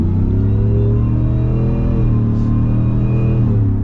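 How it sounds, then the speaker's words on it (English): Shelby F-150 Super Snake pickup truck engine accelerating at partial throttle, a loud steady low rumble heard from inside the cab with no talking. "that was just partial throttle. Partial throttle. This thing's got some power."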